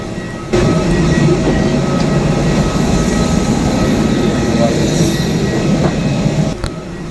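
Aircraft cabin just after landing at Colombo's Bandaranaike International Airport, filled with a steady, loud low engine and air-system rumble and hum that starts abruptly and holds evenly, with no talk.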